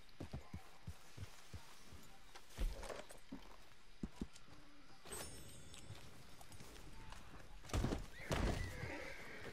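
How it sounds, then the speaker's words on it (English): A panicking horse in Red Dead Redemption 2 neighs loudly several times amid hoof clip-clops and thuds, with bursts of whinnying near the middle and end. "So close, my blooming horse panics."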